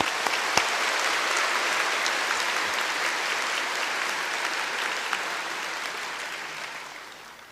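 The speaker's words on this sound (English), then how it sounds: "A big round of applause for everybody." Sustained applause from a large audience at a bar passers' oath-taking ceremony, a dense, even wash of many hands clapping for several seconds before tapering off near the end.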